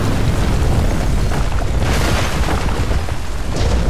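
A bomb blast in the Batman: Arkham Origins video game, heard as a loud, sustained explosive rumble with dense low-end roar and no voices over it.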